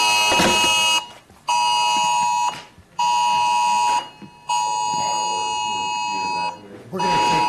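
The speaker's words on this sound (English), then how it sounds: "I figure out what this alarm is" A loud electronic alarm sounds in a county board of supervisors meeting room, its steady harmonic tone sustained in long bursts of about one to two seconds with short gaps between them, and faint room noise and voices underneath.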